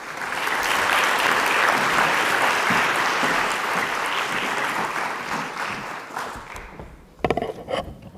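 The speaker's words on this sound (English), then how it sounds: "Thank you very much, and another applause to them." Loud, dense applause from a ceremony audience at an education prize award event, sustained for several seconds before tapering off, followed by a few sharp knocks and rustles near the end.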